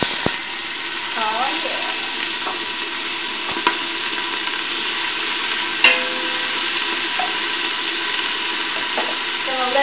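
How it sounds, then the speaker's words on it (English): Half a chopped onion dropped into hot olive oil for marinara sauce, a loud sustained hissing sizzle with occasional utensil clicks, and a brief spoken remark near the start. "our olive oil is nice and hot. I'm going to add half of a chopped onion"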